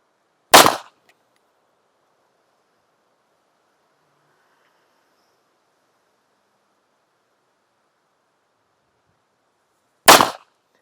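Two sharp pistol gunshots fired at an outdoor range while zeroing a dot sight, about ten seconds apart, loud and close, with near silence between them.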